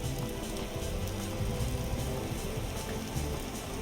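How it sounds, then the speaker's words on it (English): Rain in the video game Vintage Story, a steady dense hiss of falling drops with soft patter throughout, fairly close and even, with no one talking. "I think, yeah, it's raining."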